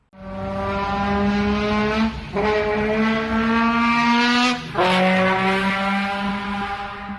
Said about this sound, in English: when a car goes by you, or a race car, and it goes zoom, or like this